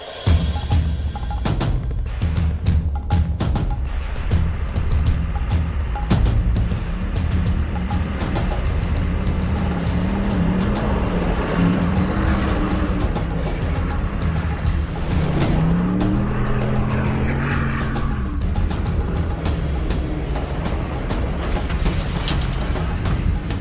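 Ford F-150 Raptor trucks run off-road in Baja, engines revving and roaring close by with repeated loud bursts, plus thumps and tire noise as they charge across rough terrain.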